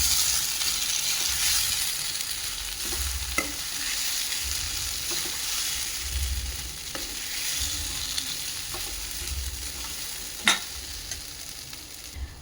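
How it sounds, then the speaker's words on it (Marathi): Drumstick pods sizzling and frying in hot oil in a pan, a steady moderate hiss with occasional stirring clinks and scrapes, close up and without talk. "शेवग्या शेंग लगेच टाकून द्यायची छान परतवायची तेलामध्ये"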